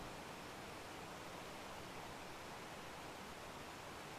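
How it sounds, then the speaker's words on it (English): Steady rushing water from a waterfall in the video game Ark: Survival Ascended, on the Ragnarok map: a continuous, even wash of noise, faint and distant, with no one talking. "I kind of like that waterfall thing."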